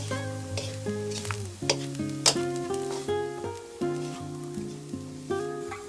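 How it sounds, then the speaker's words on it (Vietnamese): Two teaspoons of seasoning powder are stirred into food frying in a pan, giving a soft sizzle and scraping stirs under loud background music. "Nêm thêm vào 2 muỗng cà phê hạt nêm nữa, mình trộn đều lên."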